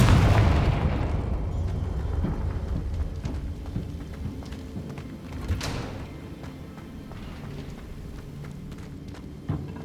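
Confringo fire spell explosion in Hogwarts Legacy, a heavy booming blast at the start that rumbles and decays into crackling, rolling game noise, with a sharper burst midway, no talking.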